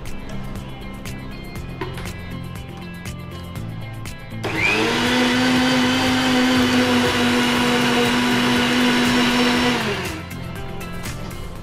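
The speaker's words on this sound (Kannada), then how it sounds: "ನಾನು ಈ ಕಡೆ ಗ್ರೈಂಡ್ ಮಾಡಿ ನಿಮಗೆ ಜಟ್ಪಟ್ಟಾಗಿ ಕೊಡ್ತೀನಿ" A kitchen mixer grinder blends ingredients into a fine paste, its loud, steady whirring motor starting abruptly, running for about five seconds and then cutting off, with quieter kitchen noise before and after.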